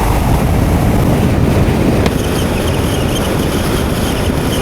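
Suzuki GSX-8T motorcycle cruising in top gear at about 60 mph, its engine note buried under steady, loud wind rush across the microphone, continuous with no break.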